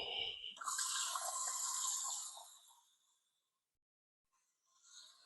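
Water poured from a container into a cooking pot for chicken tinola, a bright hissing splash that runs for about two seconds before tapering off, followed by a short quieter trickle, close by and with no talking.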